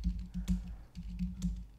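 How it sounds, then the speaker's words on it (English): Quick keystrokes on a Mac keyboard as a terminal command is typed, a close, rhythmic run of clicky taps with a short pause midway. "You can check back on its status by typing the very first command"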